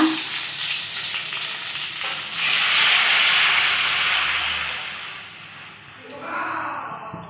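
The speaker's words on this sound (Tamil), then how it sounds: "இப்போ நம்ம இதை கரைச்சி வச்சுருக்கோம் இல்லைங்களா அதை எடுத்து ஊற்றிக்கலாங்க" Horse gram rasam mixture poured into a hot pan sets off a loud, steady sizzle and hiss of frying that swells midway, then eases and rises again near the end.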